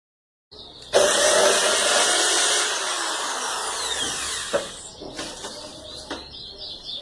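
A power drill whirs loudly for a few seconds driving screws into wooden pallet slats, then stops; a few short bursts and knocks follow as the tool is used again.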